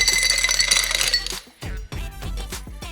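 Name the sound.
ice cubes dropped into a glass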